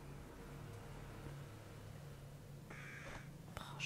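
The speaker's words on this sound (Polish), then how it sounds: "Boże, ptaku, nie denerwuj mnie." Crow cawing in the horror video game The Evil Within, a few harsh caws near the end over a steady low ambient drone.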